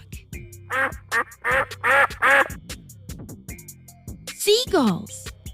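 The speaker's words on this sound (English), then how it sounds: "Duck." A duck quacks close and loud in a run of five or six nasal calls, followed by a longer descending squawk.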